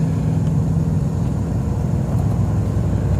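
A 1990 Cadillac Coupe DeVille accelerates on a test drive, its loud, steady engine drone and road roar heard from inside the car with no talk.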